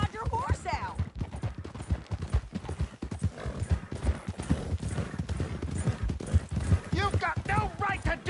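Horse hooves clip-clopping in Red Dead Redemption 2, steady rapid footfalls under loud overlapping shouted dialogue, with a horse whinnying near the end.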